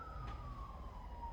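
A distant emergency siren wails outside a church, a faint, slowly falling tone drifting under a low room hum.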